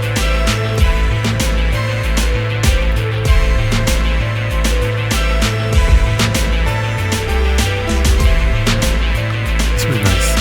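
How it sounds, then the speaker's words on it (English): A retro-sounding synthesizer plays a melodic solo line over a steady beat and bass, loud and continuous throughout. "it's really retro, really nice synth sound."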